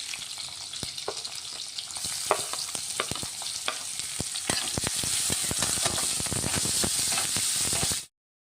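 Chillies and finely chopped onions fry and get stirred in a pan while making pithla, with a steady close sizzle and frequent sharp scraping clicks of the stirring spoon, growing slightly louder midway and cutting off abruptly.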